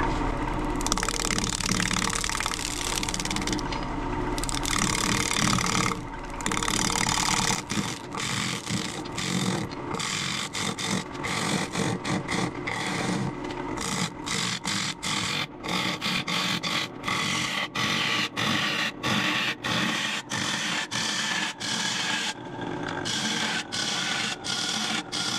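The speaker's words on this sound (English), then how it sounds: "Okay, so we got on the lathe." A wood lathe turning a bowl, a continuous rough scraping and whirring hum with frequent short clicks and tool catches toward the end, close and fairly loud, with no speech.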